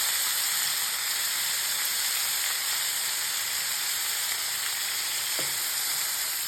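Tomatoes with salt fry in a hot pan for a bottle gourd curry, a loud, even, continuous sizzle and hiss with a single small clink near the end, no voices.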